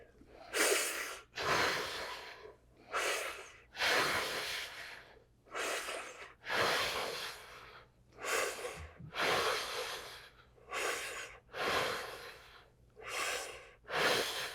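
Deep, forceful breaths during a fascia stretch, about ten long inhales and exhales in a steady rhythm, close and fairly quiet, each with a rushing, slightly nasal hiss and no talking between them.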